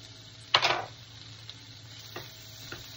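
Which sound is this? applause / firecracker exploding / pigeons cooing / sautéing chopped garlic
sautéing chopped garlic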